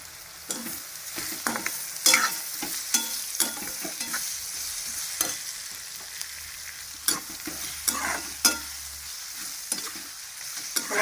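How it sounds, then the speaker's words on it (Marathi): Potatoes fry with browned onions in a pot, a low steady sizzle broken by repeated scraping strokes and clinks of a spoon stirring, close and without speech. "कांदा लाल झाला त्याच्यातच टाकू आपण बटाटे"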